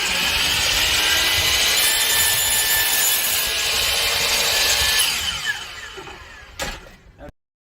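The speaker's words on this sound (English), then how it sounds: "Hey, if you need to go ahead and cut a piece of wood, DeWalt's the way to go." DeWalt 12-inch miter saw cutting through wood, a loud, steady, close whine that holds for about five seconds, then winds down with a few small knocks before cutting off.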